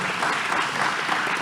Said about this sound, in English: if you'll all join me in a round of applause for our candidates for being here tonight